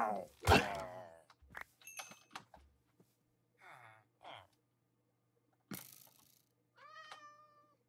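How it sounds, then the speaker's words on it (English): A cat meowing in a Minecraft village, with several short meows near the end mixed with thumps and other game sounds, fairly quiet overall. "Cats will be in villages as well."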